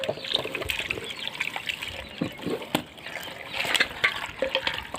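Water trickles and splashes as it is poured into a container on a farm, an uneven, moderately quiet stream broken by small clinks and spatters, with faint birds in the background.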